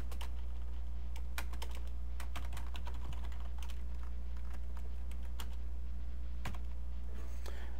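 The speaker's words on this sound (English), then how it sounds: "I can start typing out the answer for this question" Computer keyboard keys are tapped in irregular bursts of clicks while typing an answer to a question, close and clear over a steady low electrical hum, with no talking.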